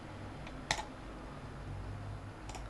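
Quiet computer keyboard typing during Rhino 3D software work: a few faint isolated key clicks, one slightly sharper press near the start and another toward the end, over low background hiss.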